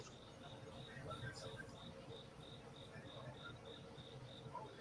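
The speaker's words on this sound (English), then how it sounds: "Jay, you still got the crickets going." Steady rhythmic cricket chirping runs throughout at low level, a thin high pulsing repeated every few tenths of a second over a soft noisy background.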